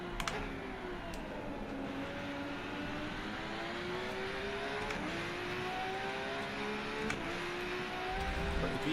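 Porsche race car engine in the PS5 racing game Rennsport, a steady high-revving drone with rising and falling gear-change tones, several cars blending together at close range, continuous throughout with no talk.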